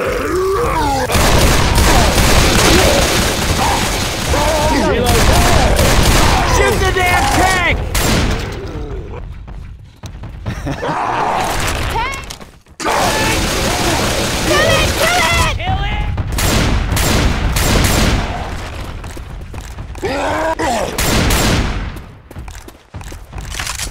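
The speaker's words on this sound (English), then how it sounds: "Don't stop shooting! Kill it, man!" Heavy, sustained gunfire and booming blasts fill a Left 4 Dead 2 fight with a Tank, with rapid bursts and roars running almost nonstop, briefly dropping out in a few short gaps, while voices shout over the fire.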